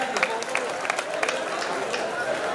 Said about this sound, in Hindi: तालियां बजाते जाओ, तालियां जरा आप लोग जोरदार तरीके से